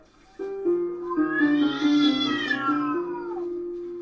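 A cat in the Cat President visual novel video game lets out one long, drawn-out meow that rises and falls in pitch over about three seconds, close and clear with nothing else heard.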